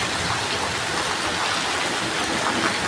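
Heavy rain pours down in an unbroken, even hiss with a dense patter of drops, loud and steady throughout, with no voices.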